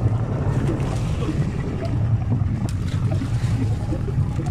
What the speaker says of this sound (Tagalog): Parang nasabaw-sabawan kami ng dagat tol. Ang laking alon.